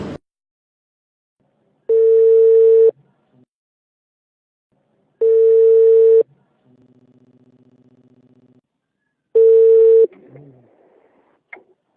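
An outgoing telephone call rings three times, each long electronic tone lasting about a second with long silent gaps between, and a quieter buzzing line tone in one gap before a click as the call connects.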